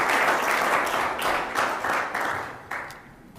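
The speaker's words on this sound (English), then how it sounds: "Why don't we give another round of applause to the panelists?" A conference audience applauds the panelists after an energy conservation and incentives panel, a steady wash of many hands clapping that rises and falls in waves before thinning out toward the end.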